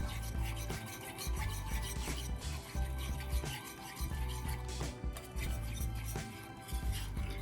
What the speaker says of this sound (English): We're just whisking this all together.